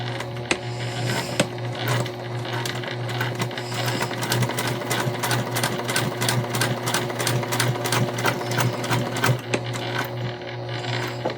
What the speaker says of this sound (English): we'll just put a top stitch in to close it up